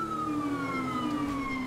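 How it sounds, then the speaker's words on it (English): Police car siren in the GTA 5 video game wails continuously, its pitch sliding steadily downward, loud and alone over a faint engine rumble. "I'm gonna reduce my siren back"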